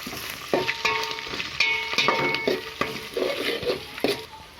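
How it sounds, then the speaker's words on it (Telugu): Ginger garlic paste and green chillies fry in hot oil, a continuous sizzle punctuated by several distinct metallic clinks and scrapes of a spoon stirring against the pan, heard up close. "అల్లం వెల్లుల్లి పేస్ట్ని పచ్చివాసన పోయేంత వరకు వేయించుకోవాలి"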